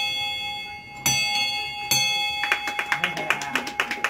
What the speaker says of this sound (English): happy bell ringing to you